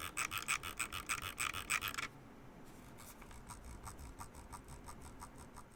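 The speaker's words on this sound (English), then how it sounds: "the scroll wheel sounds like this." Close, rapid clicking of a Logitech G Pro X Superlight gaming mouse scroll wheel in quick bursts for about two seconds, then softer, steadier ticking continues faintly.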